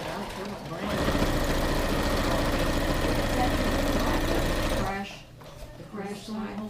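A sewing machine stitches an origami fabric bag in a rapid, steady mechanical run for several seconds, then stops. A person talks over the sewing and afterward.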